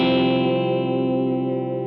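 An electric guitar played through an always-on boost pedal rings out one sustained, bright chord that holds steady and slowly fades. No voices are heard.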